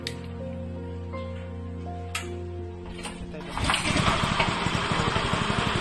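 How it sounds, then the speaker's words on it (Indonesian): The engine of a floating fish pellet machine starts up partway through, joining a steady mechanical hum, then runs loudly and continuously with a dense rumbling texture. "Caranya dengan menghidupkan mesin terlebih dahulu."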